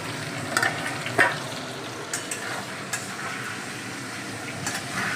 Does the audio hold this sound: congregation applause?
no